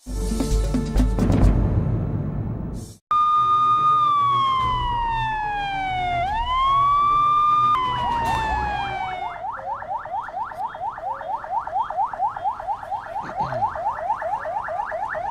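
A vehicle siren in Ghana wails loudly and close, sweeping in long rising and falling tones before switching to a fast repeating yelp pattern, with no talk.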